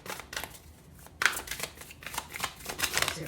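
A deck of tarot cards is shuffled up close in repeated soft riffles and flicks, with brisk, uneven rhythm and one sharper snap partway through, and no talking.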